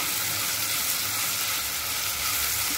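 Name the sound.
frying in a pan until brown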